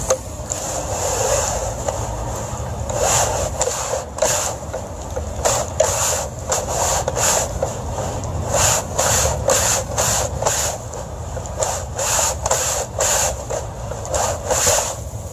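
Xero screen cleaner rinsing window screens, a steady hissing spray of water with repeated rhythmic brushing swishes and rattles as screens pass through, continuous and close for about fifteen seconds.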